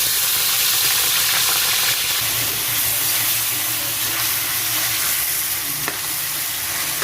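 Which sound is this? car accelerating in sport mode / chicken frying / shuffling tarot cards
chicken frying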